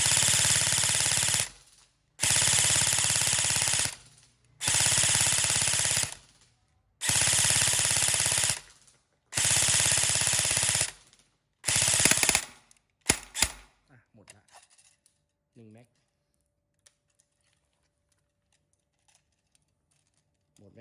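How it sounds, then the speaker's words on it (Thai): E&C 102 electric airsoft gun, tuned with a stiff spring, firing about six loud full-auto bursts in a steady rhythm, each roughly a second long with short pauses, then a few scattered shots and mechanical clicks before fading to near silence. "แต่ถ้ายิงออโต้ให้ยิงเป็นชุดนะครับ"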